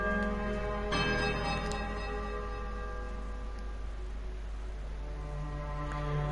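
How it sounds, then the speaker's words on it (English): A temple bell tolls in the video game Pillars of Eternity, struck once early on and left ringing in a loud, sustained, many-toned hum that slowly fades, with no voices over it. "The bell tolls a high, piercing note of startling power."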